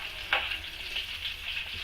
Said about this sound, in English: get some oil and just pour it over